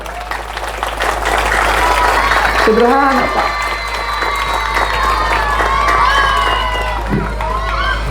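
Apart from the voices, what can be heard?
audience applause and cheering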